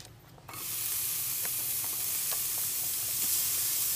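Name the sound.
frying food sizzling in pan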